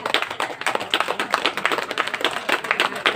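An audience at a ceremony claps steadily for a prize-winner's father called up to the microphone, with dense, rapid, close hand claps running evenly throughout and no talking.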